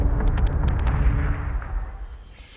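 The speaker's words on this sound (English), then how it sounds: "Part of my torpedo got eaten by a defender flak, which I didn't turn off." Defender flak fire tearing into a torpedo in a naval video game: a loud, dense burst of rumbling explosions with a quick series of sharp cracks near the start, fading into a decaying roar.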